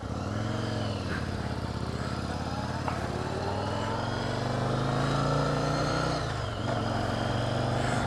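A Yamaha Virago motorcycle carrying a passenger on a country ride, its engine droning steadily and close throughout, with a brief dip in pitch as it shifts near the end.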